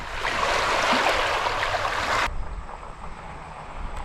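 Atlantic Ocean surf at the shore rushes loud and broad, then cuts abruptly to a quieter, steady wash of waves with wind.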